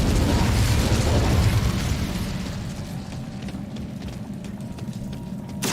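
A fire spell explodes in Hogwarts Legacy on the Nintendo Switch, a loud broadband burst that rumbles and slowly fades over several seconds, with a faint hum underneath and a fresh hit at the very end.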